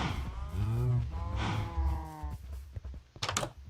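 Cattle in the Minecraft video game give a loud, close, drawn-out moo, followed by a few short clicks and thumps.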